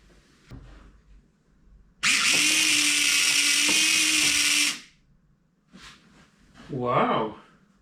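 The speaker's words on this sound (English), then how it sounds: "So when I press this, you should get a whiz whiz noise." Austin Allegro headlight wiper motor running through a full cycle, a loud steady electric whir lasting a few seconds that stops abruptly, followed by a short clack and a brief voice.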